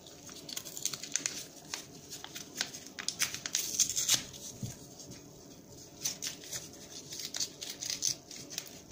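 A Hello Kitty toy package, a small robot figure, is opened close up with crisp plastic crinkling, rustling and short tearing snips in uneven bursts. No voice is heard.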